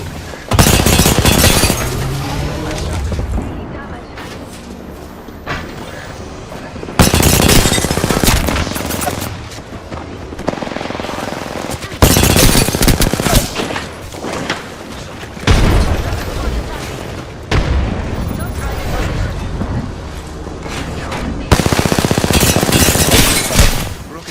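Gunfire from the battle royale shooter Apex Legends, with repeated loud bursts of shots forming dense blocks that alternate with brief quieter gaps, layered over constant game noise.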